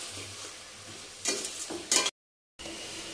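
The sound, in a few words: stirring spice paste in cooking pan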